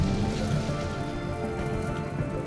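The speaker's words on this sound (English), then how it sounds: "Rain." Steady rain pattering on surfaces in the space game Star Citizen, 3.16, on the planet Microtech, a dense continuous hiss of drops filling the whole moment with no talk over it.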